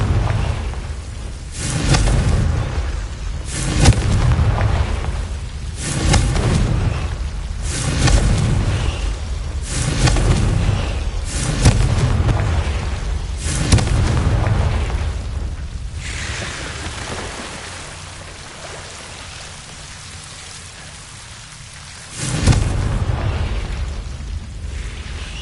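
Confringo blasting spells going off in the video game Hogwarts Legacy, a series of about eight loud, booming explosions spaced a couple of seconds apart, each rumbling into a roaring tail, then a lull before one more heavy blast.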